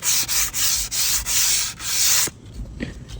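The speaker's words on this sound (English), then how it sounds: "as you're sanding this off, you're actually sanding this too" Wooden rocking chair being sanded by hand with brisk back-and-forth strokes, five loud rasping passes in a steady rhythm, followed by quieter handling noises.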